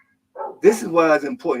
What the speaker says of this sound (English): Y'all got to excuse the dog back there.